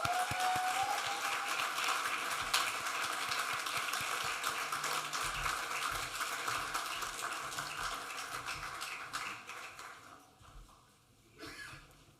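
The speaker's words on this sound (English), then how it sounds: "Can we give Miss Vanessa Sterling another hand clap?" Audience applause at a State of the City address for the City of DeSoto, a broad, steady clatter of clapping that gradually thins out, with a short swell near the end.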